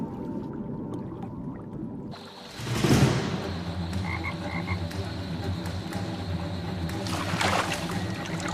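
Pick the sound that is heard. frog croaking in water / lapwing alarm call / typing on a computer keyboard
frog croaking in water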